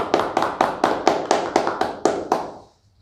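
An audience at a talk about the farmers' protest claps in steady unison, about nine evenly spaced, crisp beats that then stop, with no voices over them.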